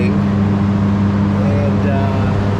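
A car running on a dyno gives a loud, steady engine drone with a constant low hum, and someone talks over it.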